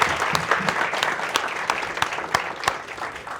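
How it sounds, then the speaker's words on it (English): Enthusiastic round of applause from an audience at an evening sales event, loud and dense with sharp individual claps standing out across the whole stretch. "Big round of applause to everyone."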